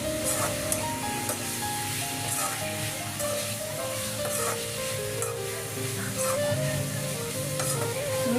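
A spiced eggplant and onion mix with garam masala and turmeric sizzles steadily in a hot pan while being stirred, a dense continuous frying hiss close up with faint scraping and no talk.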